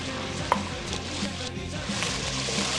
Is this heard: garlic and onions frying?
yes